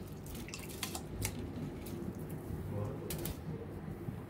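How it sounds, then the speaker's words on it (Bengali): Polao rice is rinsed with water in a kitchen, giving soft trickling and dripping splashes with a few sharper clinks, heard close and fairly quiet throughout. "এখন আমরা পোলাও চালটা ধুয়ে দিয়ে দিব এর মাঝে।"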